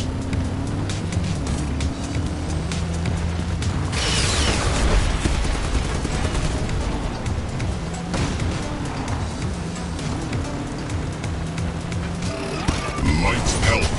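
Rockets and gunfire from the vehicle combat game Hardware Rivals on PS4, a dense run of explosive bursts and rumbling engine noise going on throughout, loudest around the middle, with game voice announcements mixed in.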